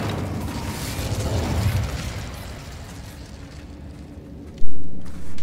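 The Incendio fire spell in Hogwarts Legacy ignites with a loud, dense rushing roar that swells and then thins out, followed by a sudden sharp burst near the end.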